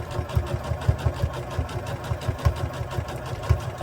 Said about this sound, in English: I'm going to back stitch right on top of the stitching I did before, and then I'm going to sew a little bit wider right through that area